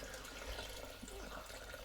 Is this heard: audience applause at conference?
no